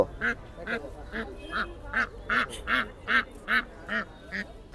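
Ducks quack at a live-poultry market in a steady run of about a dozen nasal calls, evenly spaced and fairly close, with faint background noise between them.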